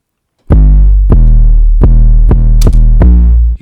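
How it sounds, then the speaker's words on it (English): A dry 808 bass with no effects plays a pattern of six deep, booming notes with clicky attacks, each sustaining into the next, very loud and alone. "Without any effects, the 808 sounds like this."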